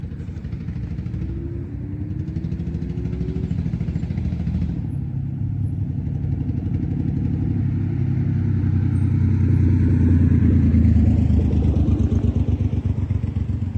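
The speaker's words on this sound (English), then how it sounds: "That car is turning around and coming back." A car on a street in Bangor, Maine, its engine rumbling close by as it passes, turns around and comes back, growing louder toward the end.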